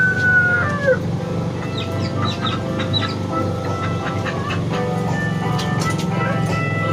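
Chickens cluck and a rooster crows in a coop at a zoo-style park, with steady poultry calls and chirps layered over a constant background hum, fairly close and busy throughout.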